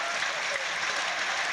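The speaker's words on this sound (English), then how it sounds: "The crowd really rising to Edberg after that rally." A tennis crowd applauds Edberg after a rally in a 1996 match against Moya, giving dense, steady clapping that fills the moment.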